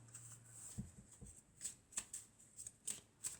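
Tarot cards handled during a reading: soft close shuffling and a few sharp flicks and taps of cards, faint and sparse with no talking.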